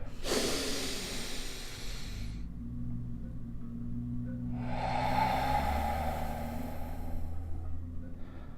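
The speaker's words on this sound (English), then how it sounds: "Breathe it in deep." Two long, deep breaths drawn in close to the microphone, each a loud airy rush lasting a couple of seconds, with a quiet pause between them and a low hum underneath.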